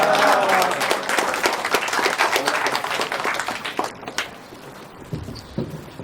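An audience applauds a government agriculture minister at a casual coffee gathering with young farmers, loud dense clapping from a crowd that thins out and fades near the end.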